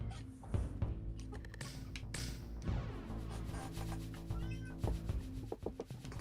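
A cat meows several times, its cries rising over a steady, busy background hum.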